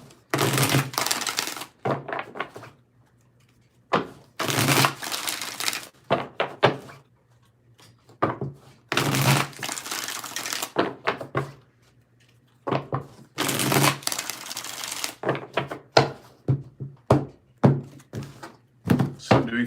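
Bursts of crisp, riffling tarot card shuffles come in several separate rounds, each a quick flurry of slaps and rattles, with quiet pauses between.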